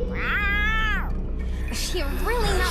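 A cat meows twice, the first a drawn-out wail and the second shorter and wavering, loud and close over a steady low hum.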